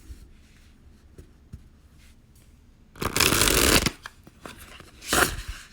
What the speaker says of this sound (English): Going to shuffle once again.